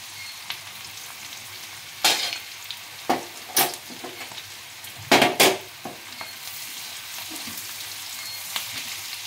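Fish coated with turmeric and chili powder frying in oil while being stirred, a constant sizzle broken by several loud spatula scrapes and clacks, some in quick pairs, up close without any voices.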